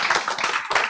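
An audience claps during a Korean health lecture, a brief, fairly close burst of hand claps with a short break before resuming.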